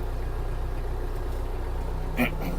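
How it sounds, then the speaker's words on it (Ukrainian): Mitsubishi MT-265 Japanese mini tractor idling as it warms up, a low steady diesel chug close by, with a short sharp click near the end. "Дамо трактору трохи прогрітись"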